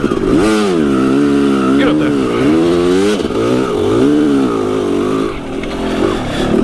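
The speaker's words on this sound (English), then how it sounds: "Getting better at the jumps and keeping steady throttle" Dirt bike motorcycle engine revving hard and close while riding over jumps, its pitch rising and dipping repeatedly with throttle changes in a loud, continuous buzzing roar.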